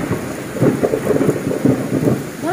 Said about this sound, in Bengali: খুব জোরে একটা বিদ্যুৎ চমকালো